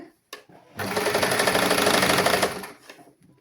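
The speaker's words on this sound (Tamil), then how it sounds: "இனி நாங்கள் வந்து இந்த பகுதியை இப்படியே நாங்கள் தொடர்ந்து நாங்கள் தைச்சு கொண்டு போகணும்" A sewing machine stitches fabric in a basic tailoring class, a single fast, even run of rapid mechanical clatter lasting under two seconds, framed by quieter handling noises before and after.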